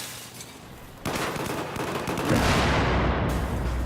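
Sustained gunfire from a Battlefield 4 5v5 Defuse match, rapid shots trading back and forth that grow louder and denser after the first second, continuing without a break.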